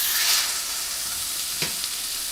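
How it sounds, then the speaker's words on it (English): A center cut pork chop seared in a hot pan gives a loud, steady sizzle throughout, with a brief clatter near the end and no voices. "So we're gonna sear this."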